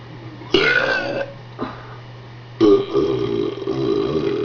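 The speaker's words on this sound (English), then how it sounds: "So whenever I burp, it's like orange." A person lets out two loud, drawn-out burps close to the microphone, separated by a brief small belch, over a low steady hum.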